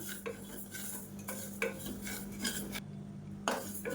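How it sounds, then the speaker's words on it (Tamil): Moong dal dry roasting in a pan, stirred with a utensil that scrapes and clinks against the metal in irregular bursts, close and moderately loud over a steady low hum. "இப்போ இது வாசனை வர்ற அளவுக்கு வறுத்து விட்டுக்கலாம்"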